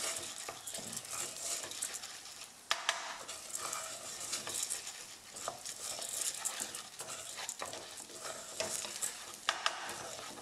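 Risotto rice stirred and toasting in a pan, a steady soft dry sizzle with scraping spoon strokes running throughout, close and continuous with a few small clinks.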